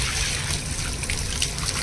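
Old standing water tipped out of a bucket in hot summer weather, a steady trickling, splashing pour heard up close for under two seconds with no talk.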